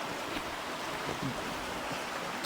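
Continuous broadband rush of flowing mountain stream water after rain, like a fast stream, with gusty wind on the microphone throughout.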